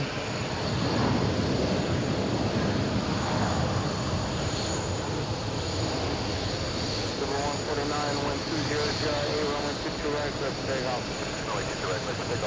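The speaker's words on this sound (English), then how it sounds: "Next JetBlue already cleared for takeoff." A JetBlue airliner roars down the runway on takeoff at JFK airport, its engine noise rumbling broad and sustained with a faint rising whine, while someone talks over it.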